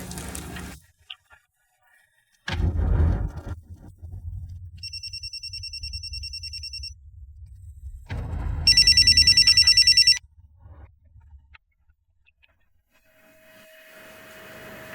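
A telephone rings in two bursts, first a short electronic trill and later a louder repeated ring, with dull background noise and silent gaps between.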